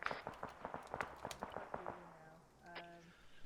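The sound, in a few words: sporadic gunfire during a military patrol exercise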